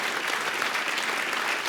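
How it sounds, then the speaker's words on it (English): A live show audience applauds Gippsland musicians, a short burst of dense, steady clapping that fills the whole moment without any talking. "Let's give them another round of applause."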